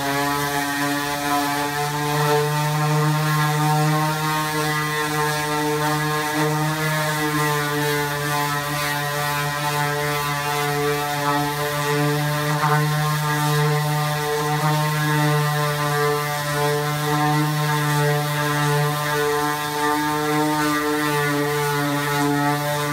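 A power sander with 180 grit runs across a mahogany conference table, a continuous loud motor whine with steady harmonic drone and rough abrasive hiss, close up and unbroken, with no voices.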